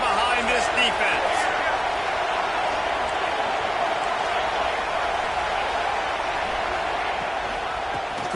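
A stadium crowd roars steadily throughout a college football video game on a big third down, a dense, loud wash of noise under a commentator's voice.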